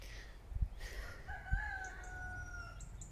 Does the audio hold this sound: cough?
no